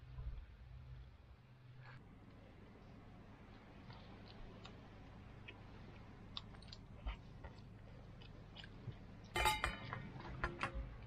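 Someone quietly chews a simple meal of potato braised with cured pork at a camp on a deserted island. Soft, sporadic bites and mouth sounds are followed by a brighter cluster of clinks near the end, all faint and close.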